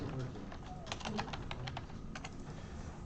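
Someone types on a computer keyboard while coding a game, producing quiet, irregular bursts of clicking keystrokes with faint room noise underneath.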